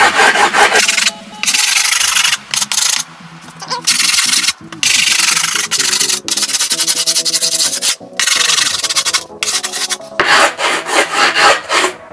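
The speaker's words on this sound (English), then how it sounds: "You just want to file it down, just like this." A wrench rasps along the edges of skateboard grip tape in loud, close strokes, several back-and-forth passes with short pauses between them.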